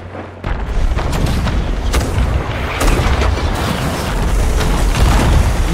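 A cannon fires a cannonball aboard a ship in Sea of Thieves, a loud booming blast that opens the clip, followed by sustained rumbling low noise with scattered sharper cracks throughout.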